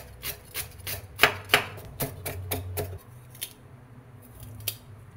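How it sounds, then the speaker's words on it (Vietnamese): A knife minces crushed shallots on a board for a vegetarian bánh giò recipe, with a quick run of close, crisp taps. The taps slow and fade to a few scattered strokes. "đập dập hành ba rô băm nhỏ."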